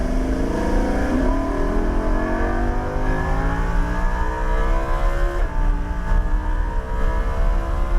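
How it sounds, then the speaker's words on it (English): A vehicle engine pulls up through rising revs as the throttle is rolled on during a timed lap, with a brief shift partway through, then keeps climbing. It is loud and steady, with no talk over it. "Roll that throttle on."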